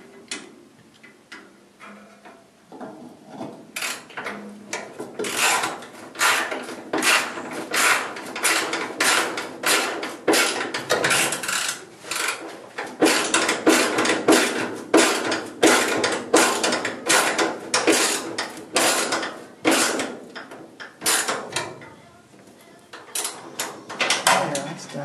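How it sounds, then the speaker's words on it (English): A screwdriver turned by hand drives a screw into a VW Bus single cab cargo floor, giving repeated close ratcheting clicks and scrapes in uneven bursts that grow louder and denser midway, with no talking. "I'm going to drive it by hand so that I can feel when it bottoms out"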